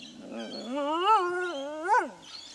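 A single dingo gives a long wavering howl that rises and falls in pitch, with a whining, mournful quality, clear and fairly close.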